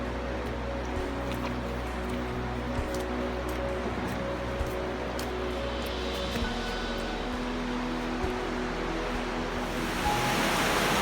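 Loud, continuous rush of a river fills the scene, a steady roar close by, with no voices.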